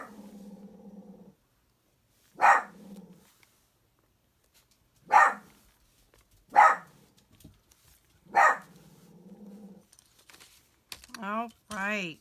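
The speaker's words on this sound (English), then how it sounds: "Sorry for the barking." A dog barks in four sharp, separate bursts spaced a few seconds apart indoors, with a person talking in between and at the end.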